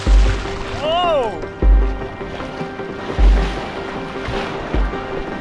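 Ocean waves surge against an exposed, windy peninsula shore on the Nova Scotia coast during a sea kayaking trip, with several loud rhythmic rushes under heavy wind buffeting on the microphone.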